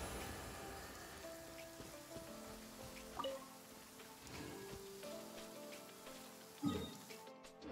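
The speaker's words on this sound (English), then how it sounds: "I love listening to the rain from the courtyard." Soft, steady rain patters on surfaces in a Genshin Impact courtyard, with scattered drips and a couple of slightly louder splashes, faint and calm with no voices.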